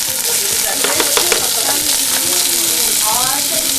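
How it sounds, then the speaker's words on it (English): Food sizzles loudly in a hot pan, a constant crackling fry close up with stirring scrapes, and a voice speaks faintly underneath. "I want to hear that sizzle"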